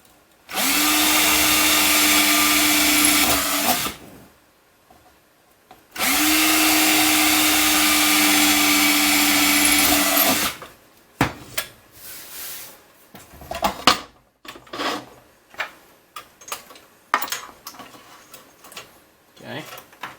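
A handheld power drill bores into a part during assembly of a RepRap Wilson TS 3D printer: two sustained whirring runs of several seconds each, close and loud, followed by scattered clicks and handling taps.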